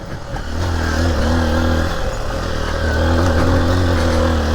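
Honda XR150L motorcycle engine chugging along at a steady low rumble on a hill trail, close and loud with a brief dip in revs near the middle, no talking.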